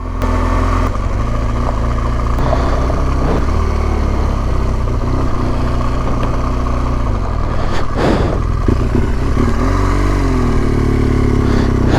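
Loaded motorcycle climbing a steep mountain road on Monte Grappa, engine droning loud and steady throughout with rough clatter and wind buffeting, a brief rise in pitch near the end, no voices.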